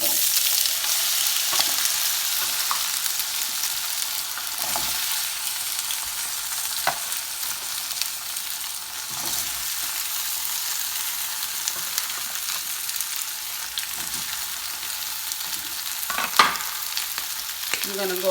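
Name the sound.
potatoes frying and being stirred in a pan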